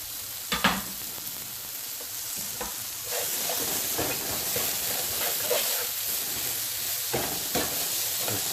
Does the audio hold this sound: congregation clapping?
no